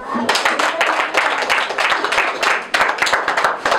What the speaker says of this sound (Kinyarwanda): reka tumwongere amashyi